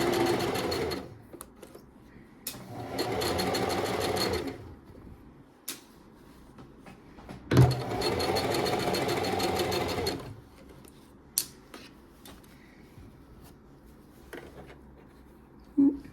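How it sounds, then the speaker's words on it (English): A sewing machine stitches fabric in two bursts of fast whirring, each a few seconds long, with a brief reverse for a back stitch, separated by quiet pauses with small clicks and handling noises. "I'm gonna sew and then I'm gonna back stitch and then continue sewing."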